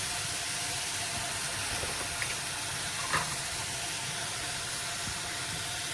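Spice masala sizzling in a pan for chole, a steady close hiss of frying with a faint stir or tap now and then.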